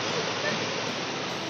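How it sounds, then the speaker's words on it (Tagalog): Rough sea waves near Baler, Aurora, where surfers ride, give a steady, loud, dense roar of surf that fills the whole stretch without pause. "maalon dito."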